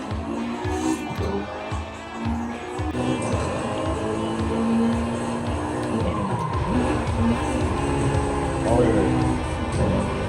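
Tires squeal and skid as a car drifts in a racing video game, with a steady engine roar underneath and intermittent talk over it.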